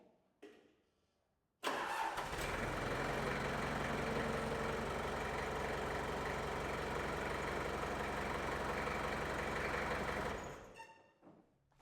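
A 1995 Gehl skid loader diesel engine cranks and catches, then runs loud and steady at full throttle for about nine seconds after a stretch of near silence, with the injection pump recently adjusted, before it cuts off and winds down.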